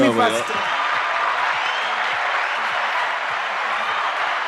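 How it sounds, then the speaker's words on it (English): A round of applause from a small crowd, steady dense clapping that starts right after a voice and continues through to the end. "That's a round of applause for you, my man"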